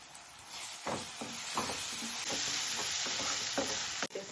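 Ginger garlic paste fries in hot oil with onion and tomato, sizzling steadily while a spoon stirs and scrapes the pan in a loose repeating rhythm.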